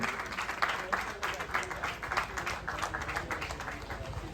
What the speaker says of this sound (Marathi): सगळ्यांनी टाळ्या वाजवायच्या त्यांच्यासाठी.